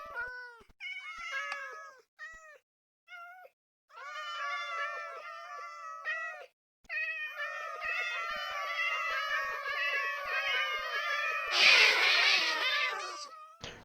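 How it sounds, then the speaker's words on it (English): Several Minecraft cats meow in overlapping, pitched calls, clear and close, with brief pauses, building into a dense chorus that ends in a louder, harsher burst like a scuffle. "Let's go grab our cats again."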